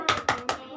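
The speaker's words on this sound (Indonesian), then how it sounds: "Yang tepuk semangat saja" A group performs the 'tepuk semangat' clapping routine in a training session, three distinct sharp claps spaced evenly, close and moderately loud.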